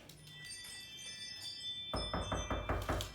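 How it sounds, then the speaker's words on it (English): A doorbell rings during dog recall training, a soft chime early on followed by a louder run of rapid tinkling rings close by, with no talk. "doorbell."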